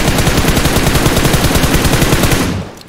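Rapid automatic gunfire from a solo-versus-squad battle royale shooter rattles out in a dense, loud burst that keeps up steadily for most of the stretch, then cuts off sharply near the end with no talking over it.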